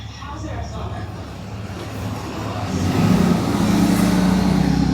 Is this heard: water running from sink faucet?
no